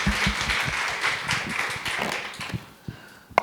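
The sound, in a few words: audience applause at a conference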